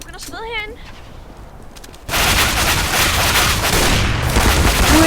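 Gunfire in a Counter-Strike: Global Offensive deathmatch, a loud sustained burst of shots and blasts starting partway through after a quieter stretch with brief game sounds, dense and continuous to the end.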